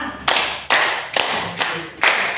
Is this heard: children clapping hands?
yes